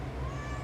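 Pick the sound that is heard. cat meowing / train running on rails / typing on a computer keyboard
cat meowing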